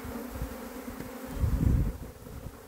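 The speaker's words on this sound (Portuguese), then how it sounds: "As abelhas ficam à vontade." Honey bees (Apis) buzz around a hive box in a steady low drone that swells louder briefly midway, close by and with no talking.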